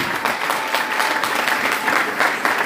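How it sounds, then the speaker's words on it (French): A church congregation applauds for Jesus, a dense, steady wash of clapping from many people, close and sustained without a break. "acclamez Jésus"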